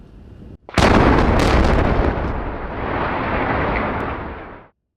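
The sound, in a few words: demolition blast collapsing two power plant boiler towers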